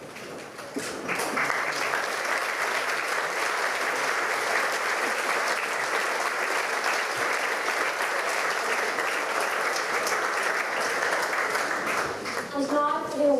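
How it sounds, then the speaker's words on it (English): Sustained audience applause at a school prize night, a steady dense wash of many hands clapping for the full length, loud and close, with no talk over it, tapering briefly near the end. "I welcome applause following each individual prize awarded"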